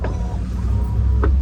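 Electric window motor on a 1988 BMW 320i E30 whirring briefly inside the car, a short steady hum with a faint click at the start and another near the end, no talking.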